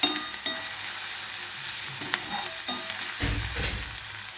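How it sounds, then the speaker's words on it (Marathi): Onion sizzles steadily in a pan for a dry cluster-bean dish, with occasional soft stirring scrapes and a louder sizzle burst near the end, no voices. "कांदा चांगला लाल होईपर्यंत भाजून घ्यायचा आहे."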